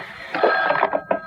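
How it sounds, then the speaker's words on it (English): Telephone bell ringing in an old radio drama scene, a short bright burst of rings heard close and clear with no talk over it. "the phone is ringing"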